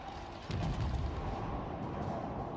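Naval guns firing in World of Warships, a deep heavy boom that breaks out suddenly and rumbles on under a dense wash of game noise, loud and close.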